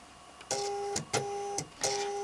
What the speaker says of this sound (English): we'll start that off by sewing these 2 together